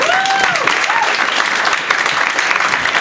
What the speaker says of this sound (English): One more round of applause for Ryco, you guys.